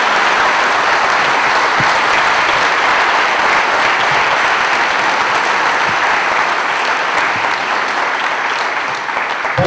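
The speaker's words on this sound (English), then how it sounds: "please join me and give him a big round of applause" A large audience at a Hindu temple gathering gives a loud, sustained round of applause to welcome a speaker, dense continuous clapping with no pauses.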